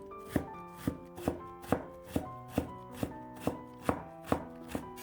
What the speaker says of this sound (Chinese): 最后切成胡萝卜丁。